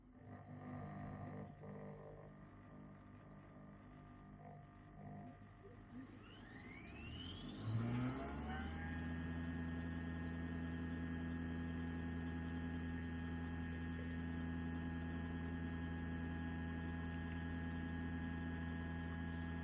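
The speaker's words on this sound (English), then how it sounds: "Here is the full brewing process, so you can also hear the actual noise level" A Nespresso Vertuo Up coffee machine starts brewing with a rising whir as the capsule spins up, settling into a steady, even mechanical hum and whine that holds to the end.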